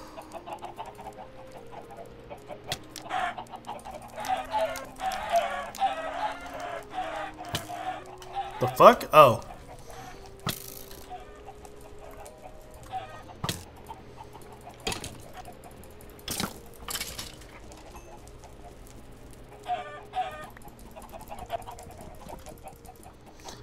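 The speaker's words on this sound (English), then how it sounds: "So many chickens, holy shit" A crowd of chickens in the Blockville video game clucks and squawks in overlapping bursts, loudest around the middle, while someone talks over them.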